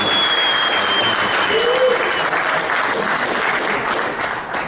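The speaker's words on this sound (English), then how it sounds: "I really think it deserves another round of applause, what Cecilia" At a boxing press conference for Gennady Golovkin versus Vanes Martirosyan, a crowd breaks into loud, sustained clapping that holds steady for several seconds before tapering slightly.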